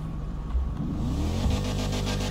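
A turbocharged Kia sports model in GTA 5 revs hard up toward 7000 RPM, its engine tone climbing steadily and then holding a loud, close, sustained whine.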